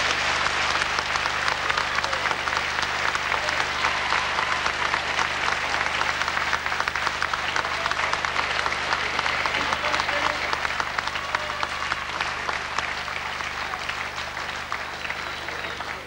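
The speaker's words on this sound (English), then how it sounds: "listen to that applause" Crowd applause in a wrestling hall at the end of a twenty-minute bout, sustained dense clapping from a big audience that holds steady, with a commentator's voice faintly beneath it.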